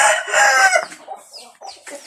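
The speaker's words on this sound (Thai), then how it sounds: "ไก่นุ่มหกเจ็ดเดือน นี่ครับเป็นไก่ที่คัดพานแล้วครับ" Young game chickens, six or seven months old and selected for breeding, cluck and crow loudly up close at a rural Isan farm in the evening, a strong burst first and then scattered softer clucks.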